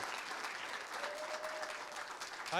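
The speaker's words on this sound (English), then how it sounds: "let's clap one more time for our school board, please" An audience at a school Board of Education meeting applauds the school board, a steady wash of clapping that fills the room throughout, swelling slightly at the end with a brief voice.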